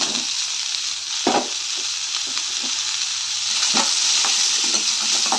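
Ingredients for a country chicken curry fry in a pan, with a constant loud sizzle and occasional short scraping clatters as a utensil stirs the mixture, no voices present.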